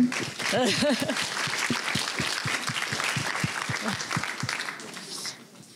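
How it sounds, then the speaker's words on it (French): Enthusiastic applause from a crowd at a genetics seminar, dense clapping that swells and then gradually fades, with a voice briefly heard at the start. "On peut déjà l'applaudir, Amandine, en fait."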